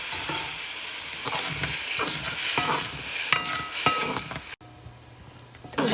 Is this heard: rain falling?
no